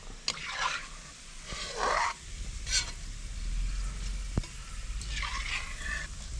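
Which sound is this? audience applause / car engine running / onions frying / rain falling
onions frying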